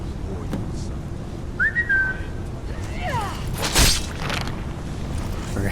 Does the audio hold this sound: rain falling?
no